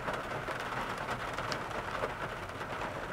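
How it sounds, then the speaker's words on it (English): Rain falls steadily outside a 2024 Toyota 4Runner TRD Off Road on a miserable day, a soft, continuous patter and hiss heard from inside the vehicle. "Can you hear the rain?"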